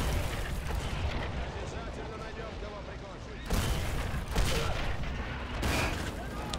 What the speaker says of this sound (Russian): А вот и выстрел.